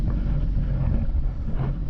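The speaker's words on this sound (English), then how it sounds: "Straight into the wind now." Steady wind buffets a sailboat heading straight into the wind near Brightlingsea, a low, constant rumble filling the short stretch with no voices.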